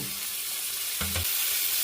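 Onions, garlic, green chilies and red tomatoes sizzle in a pan for an egg tadka, a steady close hiss with one brief stir-clatter in the middle and no talk.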